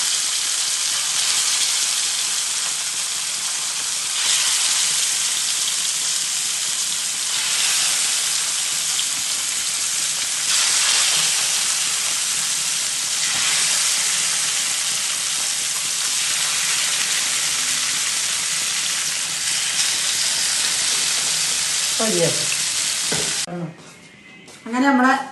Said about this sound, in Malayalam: പിന്നെ നമുക്ക് മീൻ പൊരിക്കണം